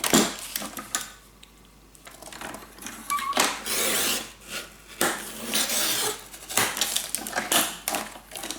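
Paper being trimmed to size for a burgundy-toned scrapbook mini album, heard as a run of rasping, scraping cutting strokes in uneven bursts, fairly close and alone without talk.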